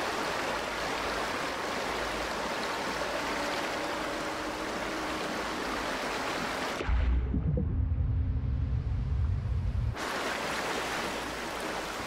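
Continuous rushing roar of a waterfall in the video game Aporia: Beyond The Valley, steady and full, briefly replaced by a deeper muffled underwater rumble for about three seconds before the bright rush returns.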